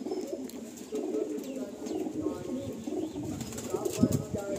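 Male Naptha-type pigeons kept for sale coo softly in low, repeated throaty phrases, with a steady murmur of background chatter and ambient noise throughout.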